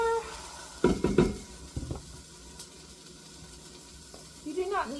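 Split pea soup with ham bits is stirred in a pot, giving a couple of brief scraping, bubbling bursts of a utensil over a faint simmering hiss, with a quiet voice at the end.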